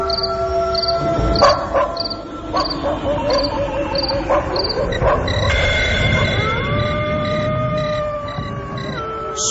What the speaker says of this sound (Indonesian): Suara lolongan anjing malam dan hewan-hewan malam menyeruak garang di malam itu